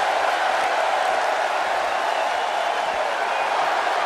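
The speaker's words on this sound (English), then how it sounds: "And Michael, it sounds to me like this crowd already picked the one who they want to win this match." Steady, dense arena crowd roar in the wrestling video game WWE 2K18, continuous and fairly loud throughout with no distinct peaks.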